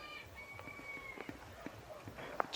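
Faint chickens cluck and squawk in the distance over a quiet outdoor background, with a few scattered short calls.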